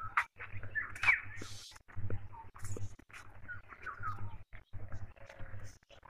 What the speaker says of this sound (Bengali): আপনারা শুনতেছেন নানান রকম পাখির ডাক ভোরের বেলা